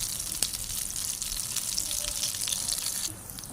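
Potato and egg kebabs frying in hot oil, a steady close sizzle and crackle running throughout with a brief louder pop near the start and the sizzle easing slightly at the end.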